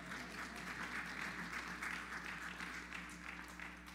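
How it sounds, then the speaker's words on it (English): A church congregation applauds softly during a sermon, steady pattering claps heard from a distance over a faint low hum. "Oh, y'all can clap."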